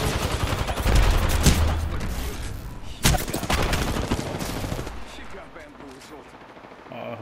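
Gunfire in the battle royale game Apex Legends: bursts of rapid shots and sharp impacts, loud and close, with a heavy blast near the start and another around three seconds, fading toward the end.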